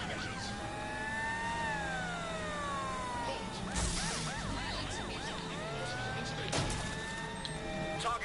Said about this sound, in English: you have really girly sirens. Really wimpy, girly sirens.